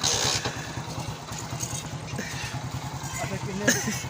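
A motorcycle engine runs with a steady low chugging pulse close by, idling throughout with a brief louder rise near the end, while people talk over it.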